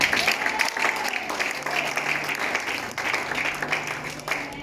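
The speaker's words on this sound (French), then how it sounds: "Est-ce qu'on va acclamer pour Yahweh?" Church audience applauding and cheering at a gathering, steady dense clapping mixed with crowd voices throughout, fairly loud and sustained.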